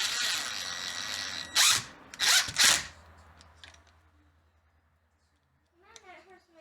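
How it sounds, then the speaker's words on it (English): A power drill drives screws into an exterior door latch, giving three loud, close whirring bursts in a row, then quiet handling noise and a brief softer rattle. "take your screws, put you a screw in the top and the bottom"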